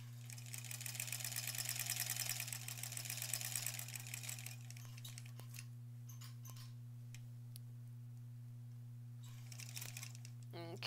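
A sewing machine stitches close to the edge of a lined zipper pouch, a soft, rapid mechanical whir running in bursts and pauses, with faint ticking between.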